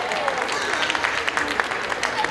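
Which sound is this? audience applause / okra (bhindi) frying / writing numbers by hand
audience applause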